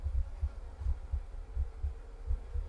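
In the video game The Excavation of Hob's Barrow, a low, muffled heartbeat thumps in steady double pulses, deep and throbbing, repeating evenly throughout under a soft hum, with no talking.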